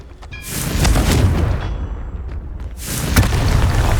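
Two deep, booming explosions from the Confringo blasting spell in Hogwarts Legacy, each a loud burst followed by a rumbling decay, with a brief lull between them.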